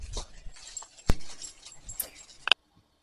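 Dogs whimper and shuffle close by in a park, with a sharp knock partway through and a brief bright squeak before the sound cuts off abruptly.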